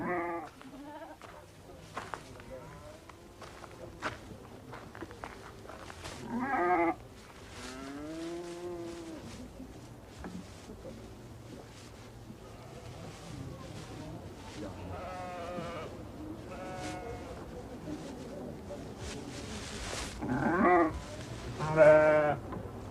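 Sheep, goats and other livestock bleat repeatedly in a ground-floor stable shared with yaks, cattle and donkeys, with wavering, overlapping cries near and far over a steady low rumble, and a voice talking at times.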